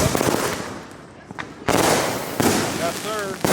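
Fourth of July fireworks going off in an Allentown street, with loud crackling bursts and sharp bangs in uneven clusters, a brief lull between them, and voices talking and whooping underneath.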